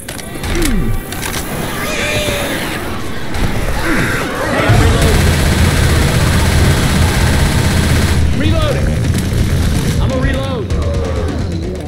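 Cooperative Left 4 Dead 2 gameplay full of game gunfire, with dense bursts of shots and booms running steadily throughout alongside in-game voices and chaotic action noise.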